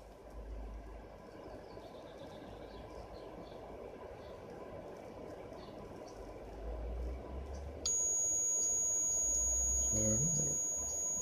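A high, steady buzzer tone from the antenna tuner of an MFJ-1788 Super Loop antenna switches on partway through and holds to the end, over a low background hum with a voice speaking.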